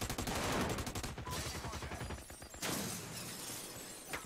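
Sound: flashbang grenade going off in the video game America's Army

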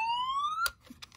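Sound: Tiger bicycle siren reproduction, fire engine mode

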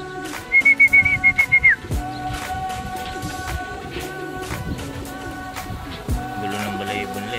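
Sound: racing pigeons in crates

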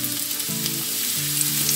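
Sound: pumpkin frying in a pan

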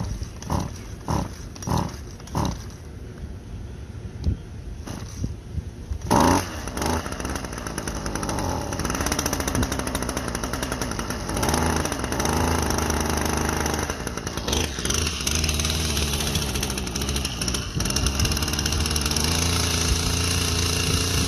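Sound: brush cutter cutting grass

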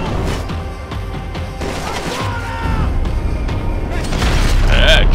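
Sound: Barrage .50 caliber gun firing in video game Max Payne 3

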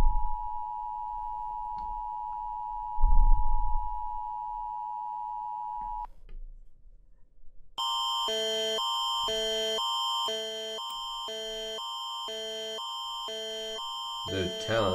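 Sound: emergency alert system alarm tones

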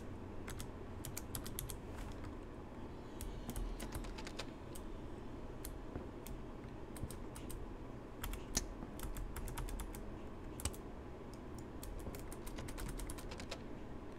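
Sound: typing on a computer keyboard, pressing every key

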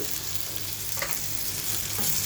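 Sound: onion frying with salt in pan

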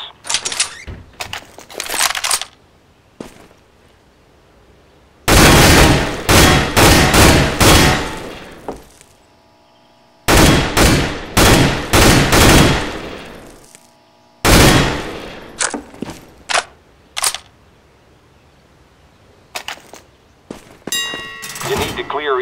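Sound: gunfire bursts in Counter-Strike: Global Offensive video game

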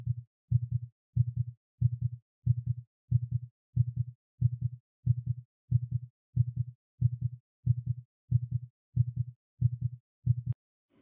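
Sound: heartbeat effect played from Syntacts software

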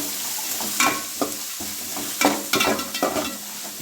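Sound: sliced onion frying and being stirred for chicken curry

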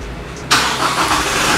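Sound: Toyota Kijang Innova 2.4 turbo diesel engine starting

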